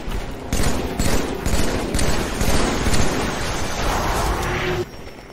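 Sustained gunfire in the Halo Master Chief Collection game, a loud, dense stream of rapid shots over several seconds that cuts off abruptly near the end, with no voices.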